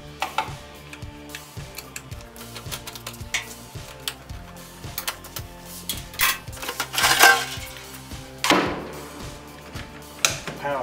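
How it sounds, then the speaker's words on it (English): Metal casing panel and screws being removed from a Vokèra 28i gas boiler, giving a run of light clicks, ticks and metallic clatters at close range, with a couple of louder rattling knocks near the end. "casing has to be removed."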